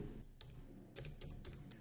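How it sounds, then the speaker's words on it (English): A command being typed on a computer keyboard, with a quick run of light, close key clicks in small irregular clusters and no talking. "you can give the command STL out using the keyboard"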